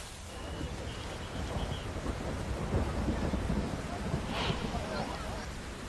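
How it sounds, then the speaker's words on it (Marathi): Heavy monsoon rain pours at the Indrayani river in Alandi, a dense continuous hiss with gusty wind buffeting the microphone and low rumbles throughout. "आपण बघतोय की पावसाचा जोर आहे तो वाढतो आहे"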